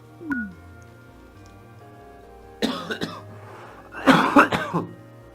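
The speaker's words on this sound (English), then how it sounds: "eyes are watering the whole time because I'm having these coughing fits" Two bursts of harsh coughing, the second louder and more prolonged, with a brief throat sound near the start and quiet room noise between.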